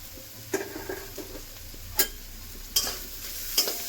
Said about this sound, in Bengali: মশলা দিয়ে আরো কিছুক্ষণ ভেজে নেব।